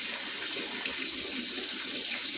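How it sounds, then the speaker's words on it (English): Water runs steadily from a kitchen faucet while a dirty pan is washed, a close, even rushing splash with no one talking. "Okay, so I'm just cleaning up a dirty pan here."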